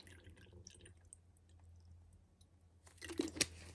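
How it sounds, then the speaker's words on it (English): Water poured into a container while preparing a banishing spell: quiet dripping and trickling at first, then a louder splashing pour near the end, close and alone. "Pour the water in."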